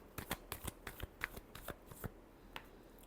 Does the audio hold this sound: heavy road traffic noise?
no